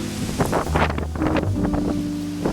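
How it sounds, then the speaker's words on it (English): Steady wind buffeting a microphone, a continuous low rumble with gusty swells throughout, alongside faint voices and background tones. "and I know it's windy"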